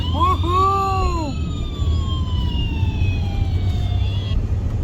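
An ambulance siren wails through rising and falling sweeps, loud and close at first, then tapers into long gliding tones over a steady road rumble.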